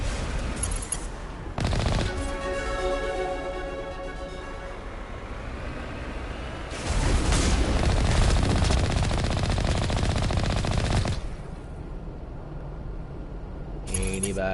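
Automatic gunfire from the video game Mass Effect Legendary Edition, loud sustained bursts with rattling shots and mechanical game sounds, intensifying into a dense barrage midway before cutting off.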